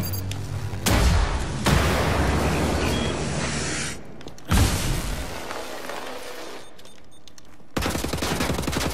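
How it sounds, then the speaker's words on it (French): A grenade blast in a shooter video game, heard as loud booming explosions and bursts of gunfire that fill the clip, with brief quiet gaps between heavy roars. "Une petite grenade."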